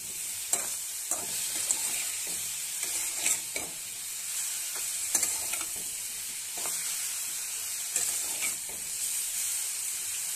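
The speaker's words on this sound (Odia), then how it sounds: "ଛତୁରେ ଲୁଣ ଦେଇକି ବି ହାଇ ଫ୍ଲେମ୍ରେ ଭାଜିବା, ଏହାର ପାଣି ବାହାରିବ।" Mushrooms with salt fry on high flame, a steady close sizzle broken by repeated scraping and stirring strokes of a utensil in the pan, with no voices.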